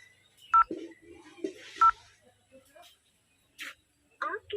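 A telephone number is dialed on a keypad, giving two short, clear DTMF beeps about a second apart, with faint voices and small noises between them.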